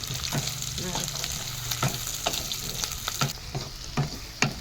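A bay leaf drops into hot oil in a home kitchen pan for small-potato aloo dum, giving a steady close sizzle with repeated sharp clicks and pops as it is stirred.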